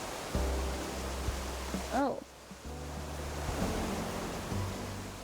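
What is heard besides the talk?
redirected waterfalls flowing in a video game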